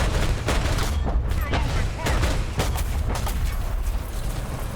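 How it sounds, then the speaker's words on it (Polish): Vehicle cannon fire and explosive booms in a tank combat video game, a rapid series of loud gunshot cracks with rumbling low-end impacts spread over a few seconds, close and dense. "No po amunicji to był strzał!"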